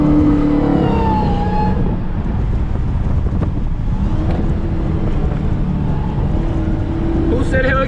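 Tuned Dodge SRT Hellcat Charger engine revving loudly from inside the car during hard driving, with wind noise, shifting engine tones and a few crackling pops near the end, under a person talking.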